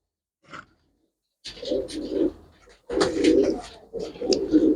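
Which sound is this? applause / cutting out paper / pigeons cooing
pigeons cooing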